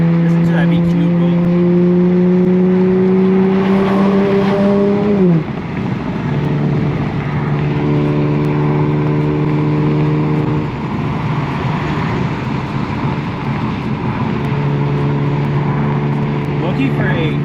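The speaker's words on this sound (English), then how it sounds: "Lucky for a exhaust setup on the cheaper side, it sounds really good." An Infiniti Q50 with an inexpensive aftermarket exhaust and a flame map holds a loud, droning engine note close by. The pitch drops sharply partway through, then the engine settles into a rougher, steady rumble with uneven pulses.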